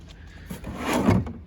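A bottom drawer of a tool chest in a car service shop slides open, a short rolling scrape that swells to a firm thud near the end, close and moderately loud with no talk.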